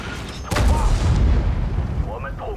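A single heavy artillery boom from a World of Tanks match, featuring the WZ-111 Chinese Tier 8 heavy tank, strikes sharply and rumbles away over about a second, with a faint voice underneath.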